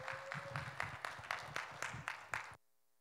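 A church congregation applauds for their pastor before his Bible study lecture, a faint steady patter of clapping from a modest crowd that stops abruptly near the end.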